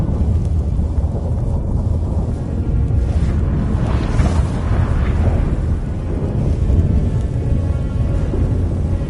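A storm in a video game, a loud sustained rumble of thunder and wind-like roar with a stronger swell near the middle, no voices heard.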